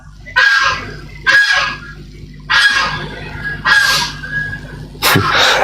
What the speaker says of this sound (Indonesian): Angsa di taman belum tidur gini hari itu.